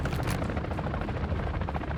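An AI-controlled helicopter in the Warzone video game, a loud rapid thumping of rotor blades blended with bursts of gunfire, steady and close throughout.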